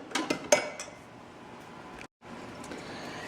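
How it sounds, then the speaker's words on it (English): Flaxseed and water are stirred together in a bowl to make a flax egg, with a few clinks of a utensil against the dish at the start followed by soft scraping, close and quiet. "6 tablespoons of water to make my flaxseed egg. And I'm going to mix that in."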